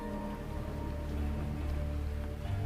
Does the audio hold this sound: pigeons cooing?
no